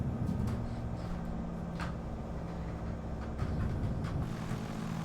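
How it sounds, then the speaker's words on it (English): Twin piston engines of a Carenado Seminole in Microsoft Flight Simulator 2020 hold a steady low drone with a constant tonal hum as power comes up during a touch-and-go at San Diego, loud and continuous with faint higher swishes. "flaps coming up, props coming full forward, power is coming on"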